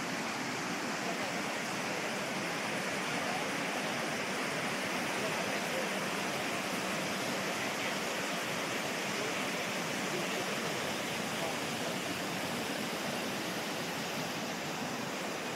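Flood water spilling over a pond at a campground makes a steady broadband rush like a small waterfall, constant and moderately loud, with no talking.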